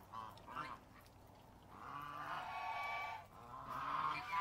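Ducks playing in water, quacking close by, a few short calls then longer raspy quacking bursts, moderately loud over a faint background.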